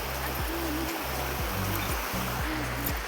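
A village waterfall rushes in a constant broadband roar, with a low rhythmic hum or throb underneath and no speech.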